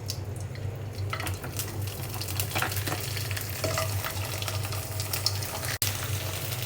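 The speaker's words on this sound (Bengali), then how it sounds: "এই পিঠাটা আমি আগে কখনো ভাজিনি, আজকে ফার্স্ট" Bengali pitha rice cakes frying in hot oil on a stove at night: a steady, moderate bubbling sizzle with a low hum underneath, plus occasional soft clicks, and no speech.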